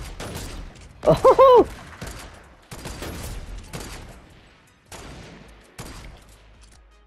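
Video game gunfire cracks out in several short bursts spread across a few seconds, with near, sharp shots separated by pauses, and a player's voice briefly audible.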